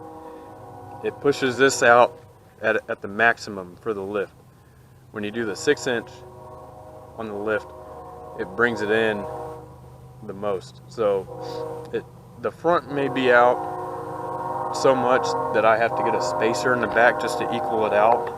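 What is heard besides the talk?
passing train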